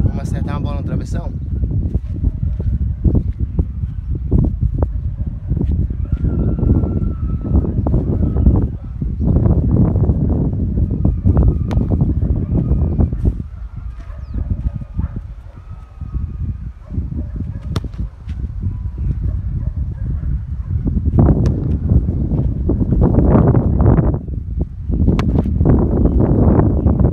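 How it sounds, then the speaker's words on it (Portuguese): Wind roars across the microphone outdoors during a football crossbar-shooting challenge: a loud, continuous low rumble with repeated gusting bursts, steady across the whole stretch, with a short lull partway through. "Vento."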